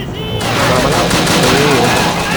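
Rapid bursts of gunfire from the Call of Duty: Roads to Victory video game, dense and continuous after a brief quieter start, with shots layered close together like a firefight.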